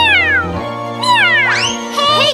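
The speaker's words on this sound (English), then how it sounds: "Meow, meow, meow." A cat gives several loud, close meows, drawn-out and rising then falling, one after another with short gaps, over steady music.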